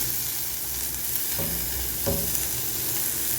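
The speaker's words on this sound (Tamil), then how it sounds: "கொஞ்சம் எண்ணெயில் வதங்கட்டும்." Potatoes and carrots sautéing in oil for a veg puff filling give a steady close sizzle, broken by two distinct stirring knocks against the pan.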